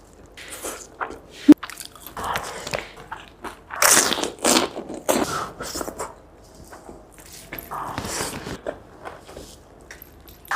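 Crisp crunching bites and chewing of popcorn chicken close to the mic, irregular bursts of crackle spread across several seconds with quiet gaps, no talking.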